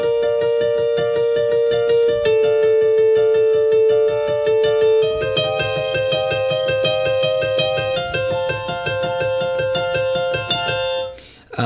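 A piano plays the intro of a song with the sustain pedal down on each chord, so clear repeated chords ring into one another, close and alone, until they fade out at the end.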